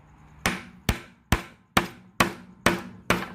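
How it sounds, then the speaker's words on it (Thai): A nail is driven into wood with a hammer: seven sharp, evenly spaced strikes ring out close and loud, each decaying quickly, with no talking. "เดี๋ยวผมจะตอกตรงกลางอีกหนึ่งตัว"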